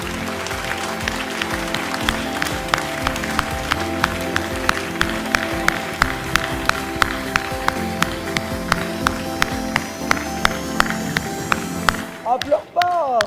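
Crowd at a French livestock championship applauds the breeders of a champion bull: steady clapping over a continuous hum of the hall, with regular sharp taps and a brief voice near the end.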